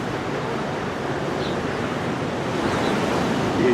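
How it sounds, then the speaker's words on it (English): Ocean surf washes in a steady, broad roar with a slight swell near the end, loud and continuous with no voices. "Listening to the ocean."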